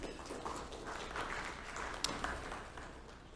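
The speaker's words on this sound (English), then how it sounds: "Let's give all of them a round of applause." Faint, steady applause from a business breakfast meeting audience thanking the panelists, a distant wash of many hands clapping throughout, with one sharper clap standing out midway.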